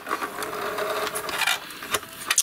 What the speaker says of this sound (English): I've been using this sewing machine for a while